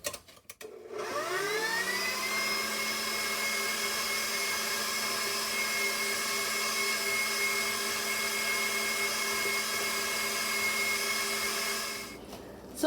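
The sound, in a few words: electric mixer whipping sugar into butter for cookies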